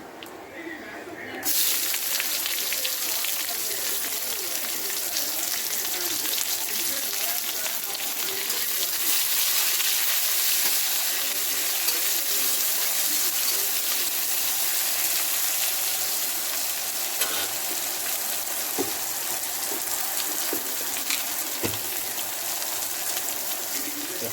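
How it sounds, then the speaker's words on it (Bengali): Chopped onion drops into hot spice paste for bottle gourd and shrimp curry, bursting into a loud, steady frying hiss after a brief quiet start. The sizzle continues with scattered small clicks and pops. "এবার পেঁয়াজ কুচিটা দিয়ে দেবো"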